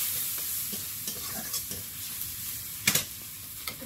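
Masala of chillies, panch phoron, salt, turmeric, cumin powder and tomato paste is stir-fried in a pan for a fish and potato curry. A constant hiss runs beneath the irregular scrapes of a spatula, with a sharper clatter near the end.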